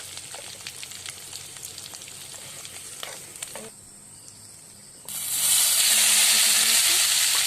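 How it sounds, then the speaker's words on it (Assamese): Onion, garlic and ginger paste frying in hot oil for a curry, a steady close sizzle that thins briefly then surges louder and brighter toward the end as the paste hits the pan. "এতিয়া ইয়াত পিঁয়াজ, নহৰু আৰু আদা একেলগে বটি লোৱা পেলাই দিছোঁ আৰু এইখিনি ধুনীয়াকৈ ভাজিছোঁ।"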